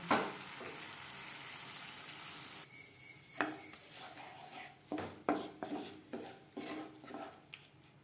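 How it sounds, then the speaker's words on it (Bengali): Tomato paste and spices frying and being stirred in a pan for a Bengali tel potol dish, a quiet sizzle at first, then a run of clattering spoon strokes and scrapes against the pan, fairly faint overall. "আর দিয়ে দেবো টমেটোর পেস্ট কাঁচা গন্ধ যাওয়া পর্যন্ত নাড়াচাড়া করে নেব"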